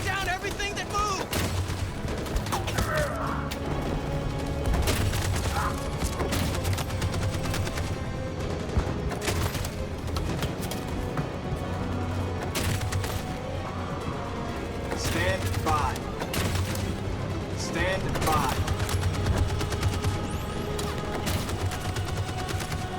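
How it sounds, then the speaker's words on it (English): Sustained gunfire crackles through a video game battle scene in Detroit: Become Human, with steady rattling shots and scattered impacts continuing the whole time under shouting voices. "That machine gun is taking down everything that moves!"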